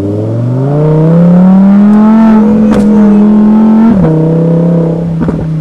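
Lamborghini engine revving through its exhaust at a host's home in Sugar Land, a loud close sustained roar that climbs in pitch, holds steady, then dips with a sharp crackle near the end before settling back.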